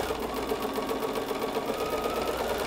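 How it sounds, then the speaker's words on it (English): A Bernina sewing machine with dual feed runs steadily, stitching through a quilt-as-you-go casserole caddy with layered fabric and batting, a continuous close motor whir with an even stitching rhythm and no talk. "And you're just gonna continue sewing this down."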